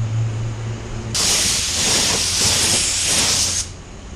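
After a low hum, a loud spray hiss bursts out close by as paint is sprayed onto a masked car, holding for a few seconds before cutting off.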